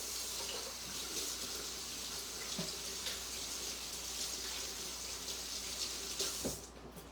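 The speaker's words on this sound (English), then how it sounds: "let me wash my hands because I've got raw cookie dough on my hands." Hands being washed under a running kitchen sink tap, a steady close rush of water that runs throughout and stops sharply near the end, with no talking.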